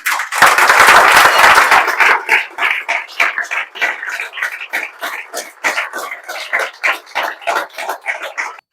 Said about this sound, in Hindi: एक बार खड़ा होकर ताली बजा दीजिए आप लोग।